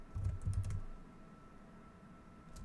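Quick bursts of keystrokes on a computer keyboard while coding in Rust with Vim, a few clustered taps near the start and one more near the end, close and fairly quiet, with no talking.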